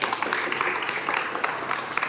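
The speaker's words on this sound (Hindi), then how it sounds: "मैं चाहती हूँ सब लोग एक बार उनके लिए तालियां बजाएं।" An audience claps for nurses at a Youth Hostels Association ceremony honouring Mother's Day and International Nurses Day, producing dense, steady applause from many hands that fills the whole moment.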